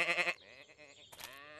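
A cartoon sheep gives a short, loud bleat, followed by quieter voiced sounds and a second rising bleat near the end.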